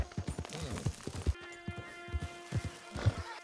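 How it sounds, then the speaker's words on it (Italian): A horse in the Red Dead Redemption 2 video game clops along with quick, close hoof beats and lets out a whinny partway through. "torniamo sul cavallo."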